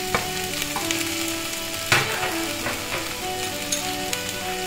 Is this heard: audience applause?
no